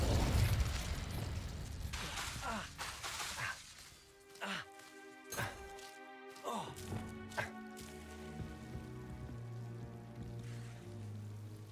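A fire spell is cast in the Hogwarts Legacy video game, giving a burst of bursts and whooshes up front, then sharp magical pops and crackles over a sustained tonal drone and bass hum that lingers.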